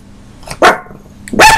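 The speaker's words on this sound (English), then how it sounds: "this is my sweetheart, Winnie, who's barking everything" A dog gives two sharp, close barks about a second apart, loud and alone with no talking.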